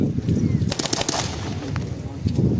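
A machine gun lays down suppressing fire at a Tankfest battle reenactment, loud rapid bursts of shots rattling across an open field amid a noisy outdoor crowd, with voices underneath.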